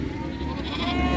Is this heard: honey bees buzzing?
no